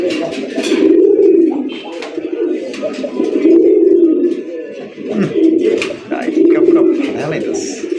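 Pigeons coo repeatedly in rolling bursts, close and loud, among a pair of red Raj Golla and red Gorra show pigeons offered for sale, with voices talking over much of it.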